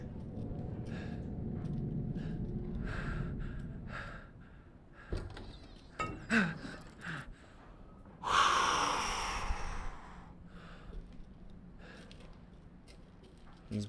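Heavy, ragged breathing from a character in the horror game Resident Evil Village, with snort-like and gasping breaths rising and falling over a low rumbling ambience, growing sharper and louder partway through.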